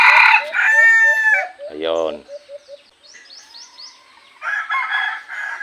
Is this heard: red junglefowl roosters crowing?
yes